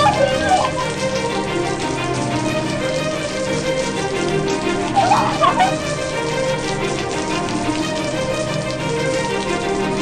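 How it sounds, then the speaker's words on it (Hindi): Rain patters steadily on a surface in a domestic indoor scene, a continuous soft wash running under background music with a few brief louder flurries. "बारिश,"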